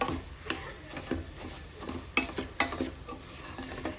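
Grated coconut palya with capsicum being fried and stirred in a pan: soft scraping strokes and occasional sharp clinks of a spoon against metal, with a faint sizzle underneath, moderately close and quiet.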